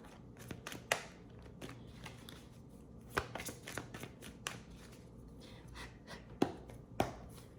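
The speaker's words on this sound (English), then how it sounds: "Give it a little bit more of a shuffle here." Tarot cards are shuffled by hand in a string of papery riffles and flicks, with several sharper snaps standing out, close and crisp with no voices.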